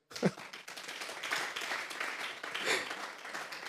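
A church congregation applauds together during a worship service, a dense burst of clapping that swells and continues steadily for a few seconds.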